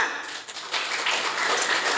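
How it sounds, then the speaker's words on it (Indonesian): A crowd at a small-business launch event in Bekasi claps together, a dense, fairly soft wash of hands that dips briefly and then swells a little fuller for the rest of the stretch. "Tepuk tangan"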